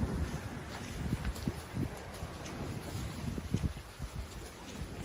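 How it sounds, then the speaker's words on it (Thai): Strong wind roars steadily outdoors near a strawberry farm in Nagano, Japan, buffeting the microphone with continuous low rumbling gusts and no clear talk. "แต่วันนี้ลมนะครับ"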